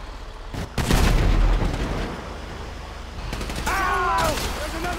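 Gunfire and explosive booms from the video game Grand Theft Auto V during a tank attack, sharp loud bursts early followed by scattered shots and a whining tone, with a player shouting in places.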